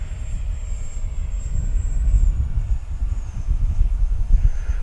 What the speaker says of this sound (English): That's a good flying little plane.